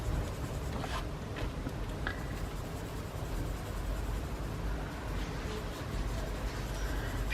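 Faber-Castell Albrecht Dürer pencils scratching on paper, a continuous close scribbling rasp with steady rhythmic strokes and no talk.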